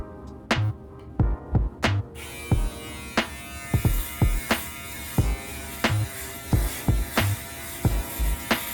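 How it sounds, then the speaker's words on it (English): Aberlite foil shaver running over a shaved head, a steady electric buzz broken by repeated short thumps and strokes in an uneven rhythm, close and fairly loud with no talking. "You don't want to press down too hard when you're trying to shave."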